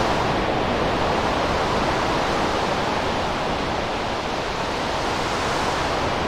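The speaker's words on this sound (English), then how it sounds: "we're really going to start to get that movement, that almost wind-ish type of sound" Stormy wind synthesized in Sytrus within FL Studio, a loud, continuous whooshing noise with slowly shifting filtered movement, sustained alone without any talking.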